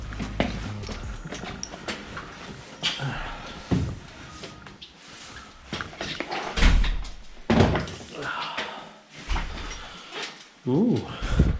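A van's doors are opened and slammed shut several times, each heavy thunk loud and close, with people talking between the impacts.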